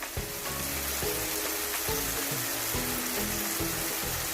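Green chillies tossed into a sizzling mutton karahi, giving a steady, close hiss of frying oil with faint crackles running throughout, with no talk.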